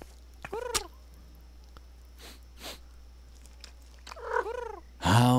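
A cat in the video game Harvey's New Eyes makes a few short, rising meows and purr-like calls in quick bursts, separated by quiet gaps, with a louder burst at the end.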